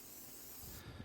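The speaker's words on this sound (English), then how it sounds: "I'm going to take a little bit of pan spray, put that on that rag." Cooking pan spray hisses from an aerosol can onto a rag for seasoning grill grates, one steady close spray lasting about a second before cutting off.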